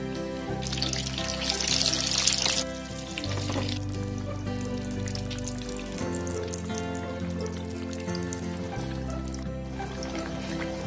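Potato vada fritters fry in oil over a low gas flame, giving a soft, continuous sizzle that swells briefly near the start. Music plays over it.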